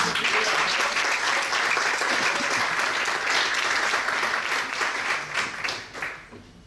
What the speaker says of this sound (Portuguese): E pode aplaudir o Senhor.